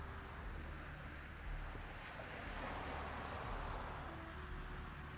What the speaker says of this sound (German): Du hörst die Wellen und blickst in den blauen Himmel.